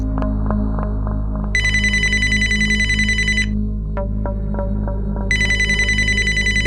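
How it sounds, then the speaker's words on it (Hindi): An electronic telephone rings late at night in a Hindi horror story. Two long bright bursts of ringing sound over a constant low hum, with faint clicks and taps between them. No voices are heard. "मेरे बेटे नवीन का फोन इतनी रात में क्यों फोन कर रहा है वो?"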